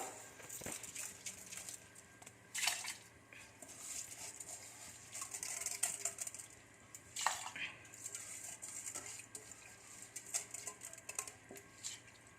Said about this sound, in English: Now I am going to put this in the cooker.